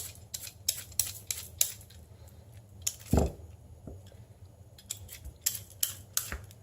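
Short scraping strokes of a peeler on a beet in a home kitchen, coming in quick irregular bursts of a few strokes at a time, with one louder knock against the board partway through.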